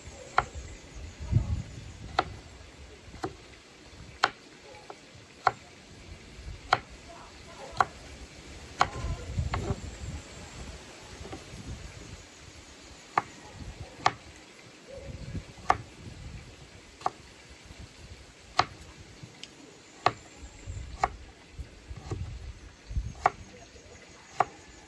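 A knife chops vegetables for escovich fish outdoors, making a steady, evenly spaced series of sharp, crisp taps on a board against a quiet background, with only a faint voice now and then.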